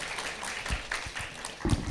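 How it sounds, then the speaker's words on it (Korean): An audience at a symposium claps to welcome a speaker, a faint, thin patter of hands heard at a distance in a quiet hall, swelling slightly toward the end. "박수로 맞아주십시오"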